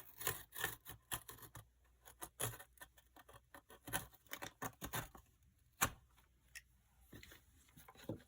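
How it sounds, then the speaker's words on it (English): A blade slices through a book page during book deconstruction, giving a series of close, crisp scratching and snipping strokes in irregular bursts with quiet gaps between. "I just want to cut that page."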